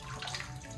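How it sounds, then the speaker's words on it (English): Tap water runs steadily over a dirty kitten during a bath, a continuous close rushing and splashing that fills the space without pause. "I get a lot of heat, not a lot, a little bit of heat for using running water to wash kittens."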